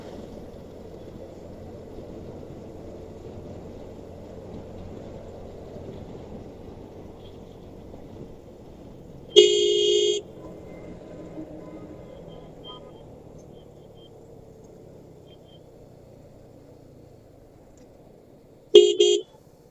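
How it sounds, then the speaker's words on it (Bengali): Buses on a narrow two-way road sound their horns: two short, loud blasts about ten seconds apart rise over a low, steady traffic rumble. "বাসগুলো অনেক বেশি হরেন দিচ্ছে, কারণ হচ্ছে রাস্তাটা চিপা"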